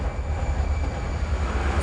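Underground work train carrying workers and raw materials through a mega water tunnel in Kuala Lumpur, a steady loud low rumble and rolling roar that continues evenly throughout, with no voices.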